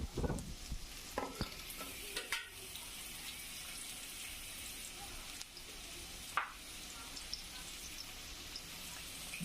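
Onions and green chilies sizzling in hot oil for a hilsa fish curry, a steady frying hiss broken by sharp spoon-and-pan clatters of stirring, loudest near the start.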